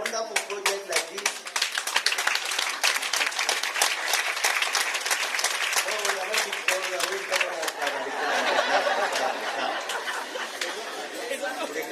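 Sustained applause from an audience at a ceremony for the Minister of Health, dense steady clapping over twelve seconds mixed with crowd chatter and voices throughout.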